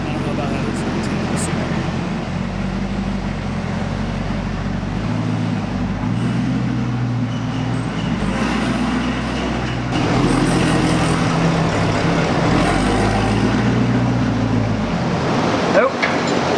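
A 2018 Chevrolet Camaro SS 1LE with an aftermarket intake, Corsa mufflers and a manual gearbox runs on a dyno, its engine a steady, loud low rumble that swells slightly near the end, with muffled voices in the background.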